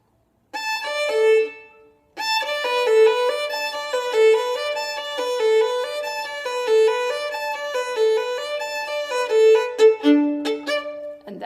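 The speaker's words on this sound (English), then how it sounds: "The piano is playing at a very consistent, steady 8th note triplet." Solo piano from the R.R. Bennett piece "Merry-Go-Round" plays a steady, even run of eighth-note triplets with sustained bass notes underneath. There is a brief pause near the start, and the piece ends on a held chord.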